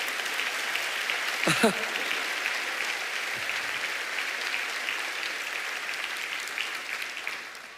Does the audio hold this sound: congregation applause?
yes